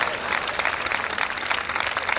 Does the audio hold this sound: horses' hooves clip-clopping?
no